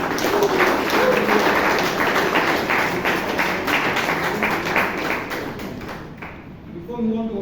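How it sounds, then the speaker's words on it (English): Audience applause at a Toastmasters club meeting in Bangalore fills the room as steady, dense clapping that holds for about six seconds before tapering off. "Can we have a round of applause to all the role takers in the party?"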